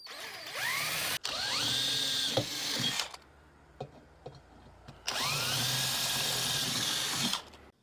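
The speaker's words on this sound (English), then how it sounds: "I've just drilled these holes out a size bigger than the M8s" A power drill whirs up in two long bursts, pitch rising as it spins up and bites into material, enlarging holes for M8 bolts to mount a 4WD awning, with a quiet pause between.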